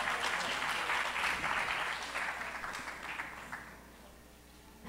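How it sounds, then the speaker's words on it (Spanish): Audience at a urology symposium applauds a panelist, a burst of clapping that starts strong and gradually fades toward the end, with no talking over it. "Un aplauso, por favor."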